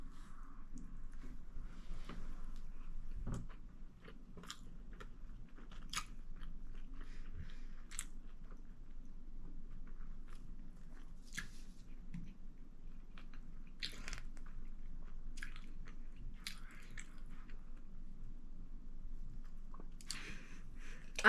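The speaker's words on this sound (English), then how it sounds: "we're going to try out a dragon roll now" Close, soft bites and moist chewing of an eel-topped sushi dragon roll built over a California roll with nori and rice, scattered mouth sounds and crunches over a quiet background.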